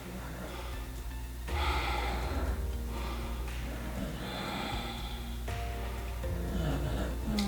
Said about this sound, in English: You might hear my dog snoring in the background.